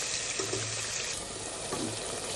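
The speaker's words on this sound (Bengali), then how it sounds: "ভালো করে কষিয়ে নিব যতক্ষণ না পর্যন্ত আমার তেল উপরে ভেসে ওঠে ততক্ষণ পর্যন্ত কষাতে থাকবো" Duck meat sautéing in oil in a pan gives a continuous, moderately loud sizzle with soft stirring scrapes, with no voices over it.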